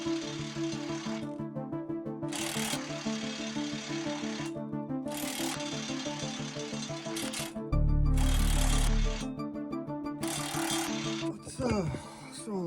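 Pneumatic impact gun hammering on a seized fastener under a Honda, several loud rattling bursts of a few seconds each separated by pauses, close and harsh.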